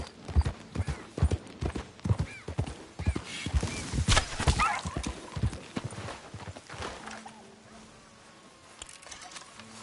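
Horse hooves clip-clopping in Red Dead Redemption 2: a steady run of close, sharp hoof strikes over the first several seconds that then slows and fades, with buzzing insects in the background.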